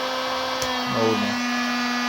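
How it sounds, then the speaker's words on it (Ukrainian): A 2 kW hair dryer runs from a 12 V pure sine wave power inverter, giving a steady, even whir with a constant hum throughout and a brief shift in tone partway through. "Включив 2 кВт фен."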